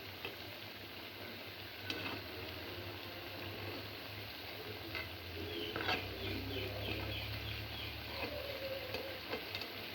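Milk paniyaram cooking in a pan after being turned, giving a soft continuous sizzle with occasional light ticks and clinks, fairly quiet and without talk.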